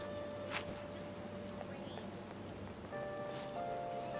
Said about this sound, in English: When's the rain gonna let off?